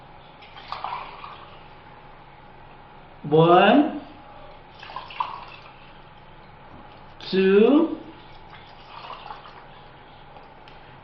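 Water poured from cups into a large container, two bursts of splashing pouring about four seconds apart, close and moderately loud, with a speaker counting aloud between them.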